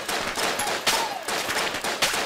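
Rapid bursts of gunfire from the dungeon-crawler Enter the Gungeon crackle in quick, uneven volleys, loud and close, with no talk over them.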